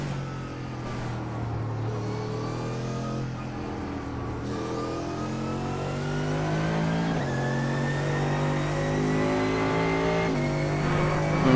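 A front-engine, rear-wheel-drive Mercedes AMG GT3 race car in the iRacing simulator accelerates steadily at Silverstone, its engine note climbing in pitch through the gears, loud and continuous with no voices.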